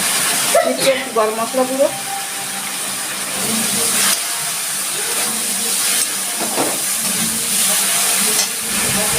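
Water poured into a hot pan for a prawn and Malabar spinach curry hisses into steady sizzling steam that carries on loudly while someone talks over it.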